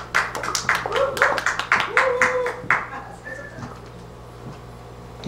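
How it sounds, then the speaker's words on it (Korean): A live music show audience claps to welcome a singer onto the stage, a burst of scattered, fairly close handclaps that fades out after about three seconds, with voices speaking among the clapping. "큰 박수 보내주세요."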